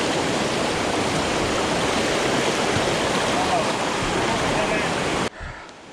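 A small creek flows with a steady, dense rush of water, loud and close, running unbroken until it cuts off near the end; a voice is briefly heard just after the cut.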